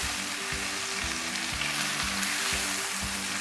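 Green chilies sizzling in hot oil with garlic and onion for an aloo baingan (potato and eggplant) dish, a steady close frying hiss with soft rhythmic stirring scrapes throughout.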